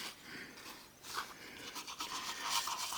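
A wet toothbrush is shaken and flicked to throw off water, giving soft, quiet scratchy rustles in quick uneven bursts, with no voices.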